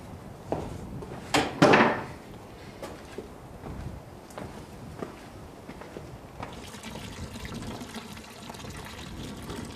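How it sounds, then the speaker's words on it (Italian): Water is drawn from a village fountain on a cold, windy day, with splashing and pouring close by, a few knocks of containers, then a steady flowing wash of water. "È buona prudenza allora fare scorta d'acqua attingendola ad una delle fonti del paese."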